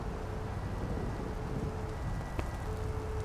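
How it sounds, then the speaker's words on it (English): Rain from the Bus Simulator 2016 video game makes a steady, moderately loud hiss, with a faint hum and one brief sharp click partway through. No speech is heard. "Oh, God, it's raining."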